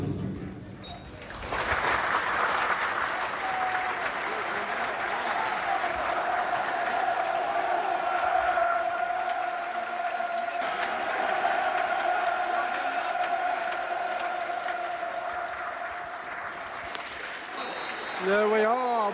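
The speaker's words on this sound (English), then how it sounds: "There we are, a minute's applause." A football stadium crowd at Millwall claps steadily through a minute of applause in remembrance, a dense sustained roar of clapping with a whistle-like tone running through it and a voice speaking over it near the end.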